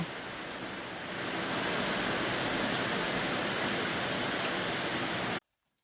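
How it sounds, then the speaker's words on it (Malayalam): Heavy rain pours steadily, a thick even patter that swells slightly early on, then cuts off abruptly near the end. "മഴ വന്നൂല്ലേ?"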